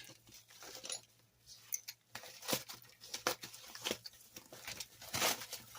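Small mail packages are opened up close, with irregular bursts of tearing, crinkling and rustling cardboard and plastic, and no talking.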